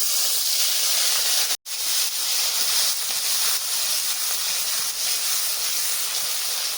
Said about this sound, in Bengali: ফোড়নে দেব একটা শুকনো লঙ্কা আর সামান্য একটু কালো সর্ষে